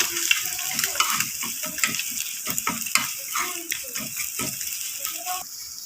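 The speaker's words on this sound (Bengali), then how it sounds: "এবার ডিমটা ঝুড়ো ঝুড়ো করে ভেজে নেব।" Lightly salted egg is scrambled and fried in a pan until crumbly. Close, busy sizzling is punctuated by quick spatula scrapes and taps in an uneven rhythm.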